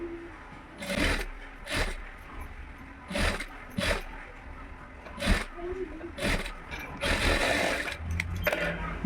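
A sewing machine stitches a blouse sleeve in short bursts, several separate runs of rapid needle clatter with pauses between as the fabric is repositioned; quiet speech occurs intermittently.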